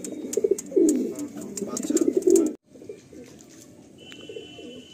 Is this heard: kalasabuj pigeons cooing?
yes